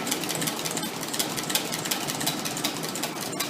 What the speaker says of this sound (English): So we're going to whisk our double cream